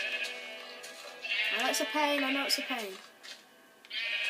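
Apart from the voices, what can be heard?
sheep bleating in a video game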